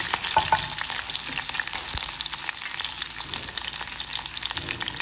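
Seven garlic cloves and chillies crackle and spit in hot oil for a brinjal thuvaiyal. A dense, close sizzle runs without a break, peppered with small pops and popping bursts.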